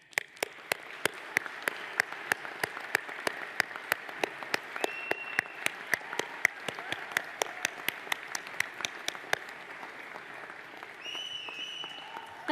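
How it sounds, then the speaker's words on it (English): An audience at a Strathclyde Business School graduation ceremony applauds steadily in a large hall, with dense, even clapping throughout and a few faint whistles and cheers rising above it. "let us take a moment to acknowledge, applaud, cheer if you like"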